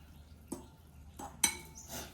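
A metal spoon and fork clink against a bowl while mayonnaise ramen with pork and egg is tossed, giving a few sharp separate taps with soft scraping between them and no talking.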